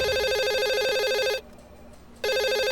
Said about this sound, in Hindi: आपके डेस्क पे फोन बज रहा है, उठाइए जाइए